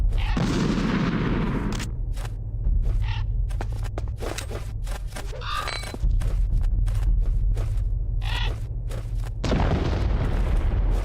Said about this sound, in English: Stun grenades should make them fall, but will it kill them?